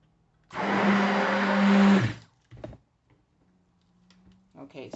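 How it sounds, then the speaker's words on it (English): A kitchen blender runs in a loud, steady whir for about a second and a half, then cuts off. Brief clatter and some talking follow. "I'm going to blend, so I'm going to pause just to give this a little bit of a stir."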